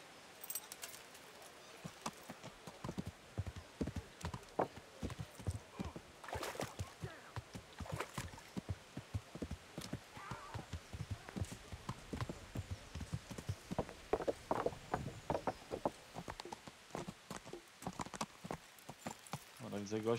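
Horse hooves clip-clopping at a steady walking rhythm in the medieval game Kingdom Come: Deliverance, quiet and evenly paced, with light ambient sound around them.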